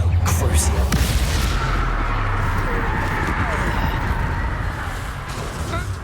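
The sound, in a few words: explosive spells cast in Hogwarts Legacy video game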